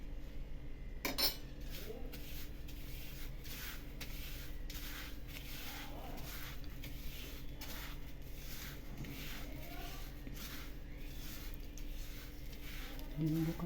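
A spoon mixes black and white sesame seeds with turmeric, salt and a spoonful of water in a bowl for mukhwas, giving repeated soft clinks and gritty scrapes in a steady rhythm, close and fairly quiet.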